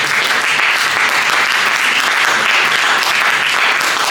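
A church congregation applauds in loud, dense, sustained clapping that fills the space evenly from start to finish, with no pauses.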